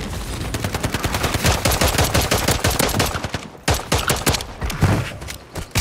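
Rapid automatic gunfire from a shooter game rattles loud and close in long dense bursts, broken by a brief pause and then more volleys.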